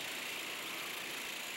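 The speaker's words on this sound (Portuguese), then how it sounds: "Potência, aceleração total no kart" A go-kart engine runs at full throttle on a race track, a continuous dense high-pitched roar at steady loudness with no voices.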